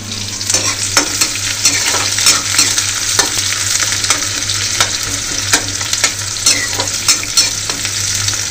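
Onions sizzling steadily in a hot pan while a spoon scrapes and stirs through them in frequent knocks and scrapes, close and loud with no talking.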